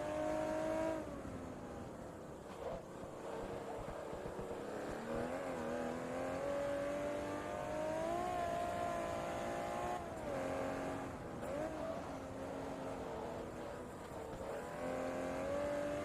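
Racing car engine in Forza Motorsport 2 held at full throttle, a loud, continuous high-pitched whine that rises and falls with gear changes for the whole stretch, with no talk over it.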